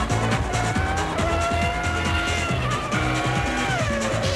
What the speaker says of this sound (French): L'incroyable puissance de son V10 époustouflant.